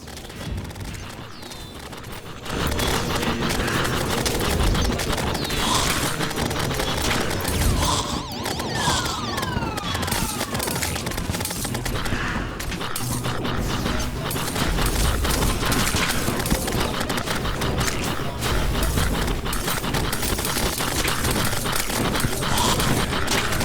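Turrets fire steadily during a solar eclipse in Terraria Calamity, a dense, continuous barrage of shots and impacts that stays loud for the whole stretch with no talking.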